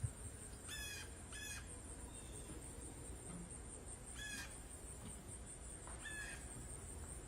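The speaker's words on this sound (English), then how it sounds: "Oh, you can hear the birds." Harsh crow caws come in short bursts of two or three, somewhat distant, over a constant high insect whine and outdoor hum.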